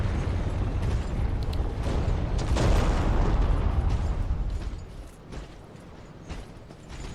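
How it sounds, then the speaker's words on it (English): Heavy explosions in Dark Souls 3's Ashes of Ariandel DLC, set off by an axe-wielding Millwood knight: a rumbling broadband blast swelling in the middle, then fading into scattered smaller bursts and quieter ambience. "The guy with the axe. That's doing those explosions."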